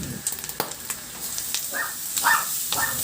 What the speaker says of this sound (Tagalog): At dyan ko na rin igisa yung bawang.